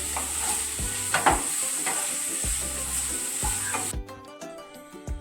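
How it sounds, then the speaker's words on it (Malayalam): Carrots frying in hot oil in a pan while being stirred, a steady close sizzle with repeated scraping strokes of the stirring utensil against the pan, no voices. "ക്യാരറ്റ് ഇട്ട് കൊടുക്കാം ഇതിനെ ഇളക്കി കൊടുക്കാം"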